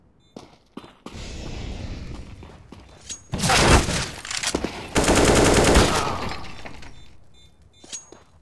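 A molotov fire grenade is thrown in CS:GO: a loud glass shatter bursts into a roaring whoosh of flames. Scattered clicks and rapid crackling gunfire-like bursts follow, close and loud, then fade out, with no voices.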